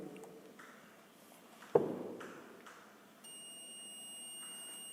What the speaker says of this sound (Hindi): ये देखिए कंटिन्यूटी शो कर रहा है और बीप की साउंड भी आ रही है।